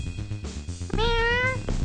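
A cartoon cat meows in the video game Cat Licker, one long rising-and-falling meow loud and close, following a shorter softer mew, with game music underneath.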